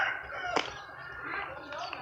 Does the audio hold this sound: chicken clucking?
yes